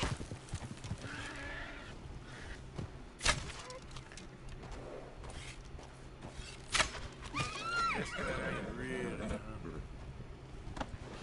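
A horse in Red Dead Redemption 2 whinnies among clip-clopping hooves, with sharp hoof or impact hits and a clear neigh near the end, while people talk over it.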